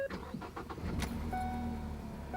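An economy car's engine cranks with a few quick rhythmic starter pulses, then catches and settles into a steady idle, recorded up close and fairly quiet, with no talk.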